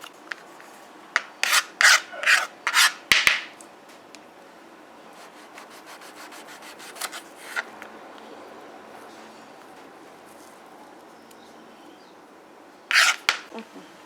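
A knife scrapes the thin skin off chichira in a series of short, rasping strokes close by, a quick cluster at first, a few scattered strokes after, then a final pair following a quiet gap.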